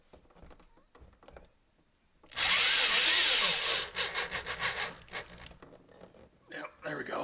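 A power drill drives fasteners into the center of a car's front lip under the license plate, a loud burst of whirring lasting a couple of seconds, followed by uneven rubbing and quieter handling noises.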